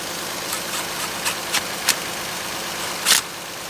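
2009 Nissan Murano engine running rough with a random misfire, a faint, low idle hiss broken by irregular sharp ticks and one louder puff.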